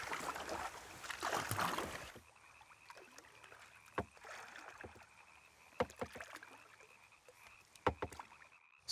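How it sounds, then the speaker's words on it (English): A homemade kayak paddles through a swamp, with a burst of loud water splashing at the start, then quieter intermittent paddle strokes and drips over a calm background where frogs croak faintly. "use his homemade kayak to approach them"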